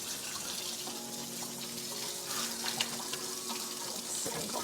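Tap water runs steadily into a sink to rinse a houseplant, a continuous close hiss and splash with small changes in the stream.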